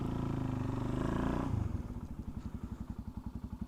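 A motorcycle engine, close and loud, roars briefly, then falls back into a lumpy, rhythmic idle with evenly spaced thumping pulses.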